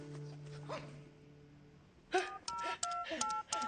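A phone keypad is dialled in a dubbed South Indian Hindi film scene, a quick run of distinct tones following a quieter stretch with a low sustained hum and some faint background sound.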